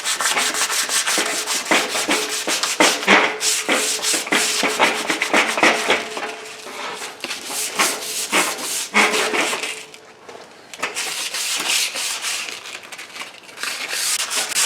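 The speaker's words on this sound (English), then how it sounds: "So I'm going to sand the varnish all off of this." Sandpaper rubs steadily back and forth along a wooden axe handle, scraping off its varnish in continuous close strokes with a brief pause near the middle.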